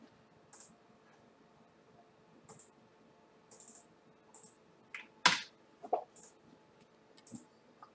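Sparse, faint clicks and taps on a computer keyboard and mouse, a few isolated presses spread out in an otherwise quiet room, with one sharper click standing out near the middle.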